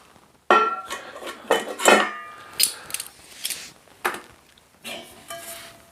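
Stainless steel plates and a small pan from a Kelly Kettle scout kit clink and clatter together close by, in a string of sharp metallic knocks with brief gaps between them.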